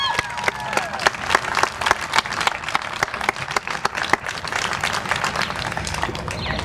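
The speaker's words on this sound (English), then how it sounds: "Let's give her another round of applause." Applause at a press conference: a room of people clapping in a crisp, uneven patter of individual claps, steady and moderately loud throughout.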